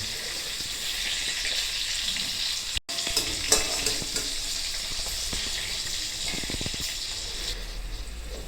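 Pointed gourd (potol) slices fry in a pan over low heat with turmeric and salt, giving a steady close sizzle with light stirring scrapes, no voices.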